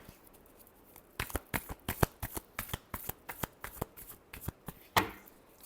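Tarot cards are shuffled close by in a quick series of crisp riffling slaps, about a dozen sharp bursts with a brief pause and a final longer shuffle, no talking over them.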